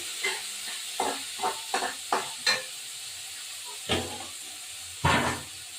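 Prawns and spices fry in a pan, ginger and green chilli among them, a steady sizzle broken by repeated scraping stirs and two louder bursts of hiss near the end, no talk.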